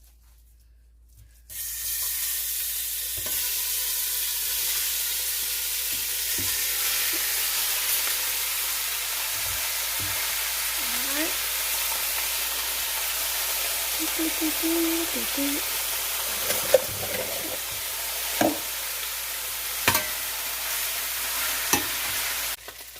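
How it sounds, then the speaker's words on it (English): Beef searing in a pan with about a tablespoon of oil, a steady close sizzle that starts abruptly and continues evenly, with occasional clinks and scrapes of a utensil against the pan. "we're going to go ahead and sear our meat"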